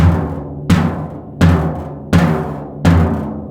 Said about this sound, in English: So you almost get a buzz roll and you distort the sound of the drum.